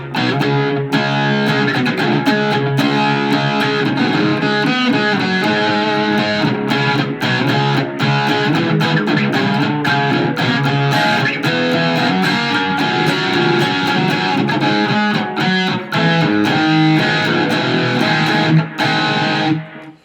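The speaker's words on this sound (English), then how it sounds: "now we're going to add a little extra distortion. I'm going to set it to the crunch channel." Electric guitar played through the crunch channel with distortion on the bridge pickup, loud and continuous with dense driven chords and riffs for the full stretch, no voices.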